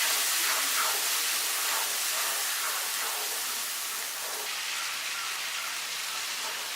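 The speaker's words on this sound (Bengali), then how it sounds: "এবার আমি মশলাটা খুব ভালো করে কষবো।" Ginger, garlic, cumin and turmeric masala frying in hot oil for a Bengali prawn and cabbage dish, giving a steady, close, hissing sizzle that holds evenly throughout with no talk.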